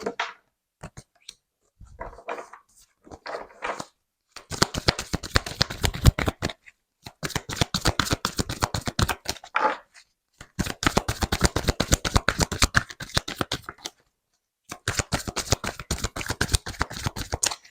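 Tarot cards shuffled by hand for a reading, with close, crisp riffling bursts of rapid flutter separated by short silences, growing longer and steadier as the shuffle goes on.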